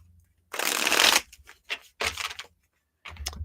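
Tarot cards are shuffled by hand in a long riffling burst, followed by shorter flicks and taps with pauses between, close and fairly loud with no speech.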